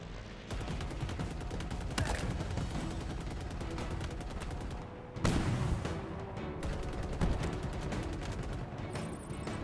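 Rapid bursts of sniper rifle fire in Halo Infinite gameplay, loud, dense and continuous, with repeated sharp cracks and booms layered over one another and a brief pause midway.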